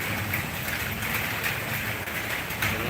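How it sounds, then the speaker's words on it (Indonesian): Heavy rain driven by strong wind in Singosari, Malang Regency, a steady dense roar of rainfall and gusts that continues without a break from start to finish. "Hujannya deras, angin kencang."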